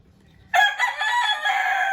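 A rooster crows loudly and close by, one long sustained call that begins abruptly after a moment of near silence.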